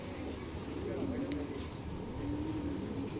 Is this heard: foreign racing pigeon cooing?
yes